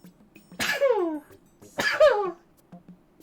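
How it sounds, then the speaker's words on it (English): Two short, sharp sneeze-like bursts come about a second apart, fairly close, against quiet background with nothing else going on. "I gotta sneeze."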